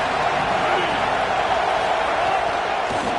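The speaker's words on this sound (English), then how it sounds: "This crowd ready to make its presence known." Stadium crowd at a football game, a steady dense roar of massed voices filling the space, loud and continuous without distinct claps or peaks.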